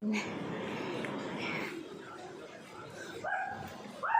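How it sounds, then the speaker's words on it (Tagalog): A cute dog gives a few short barks and yips in a residential compound in Hong Kong, over a steady background hum, with people talking nearby. "Ang cute na aso."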